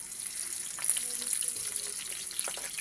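Onions sauté in a pan with a soft, even sizzle and faint spattering, plus a few light utensil clicks, fairly quiet and close, with no one speaking.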